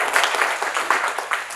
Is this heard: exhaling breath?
no